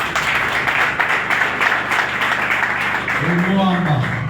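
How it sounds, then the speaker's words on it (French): Audience applause at a senator's ceremony in the Democratic Republic of Congo, a steady dense wash of clapping from a crowd, loud and continuous, with a voice and a brief tonal sound rising near the end. "applaudissez-les"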